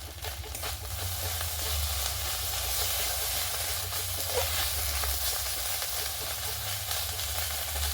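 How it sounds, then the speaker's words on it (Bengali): Ginger frying in hot oil with a pinch of turmeric in a pan, a steady close sizzle with low rumbling hiss running unbroken throughout. "আদাটা ভাজা হয়ে গেছে"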